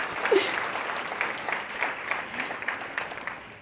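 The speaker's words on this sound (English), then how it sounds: "So please give yourselves a warm round of applause." A room full of women at the 2011 WITI Hall of Fame award ceremony applauds steadily, a dense wash of many hands clapping from start to finish with no voice over it.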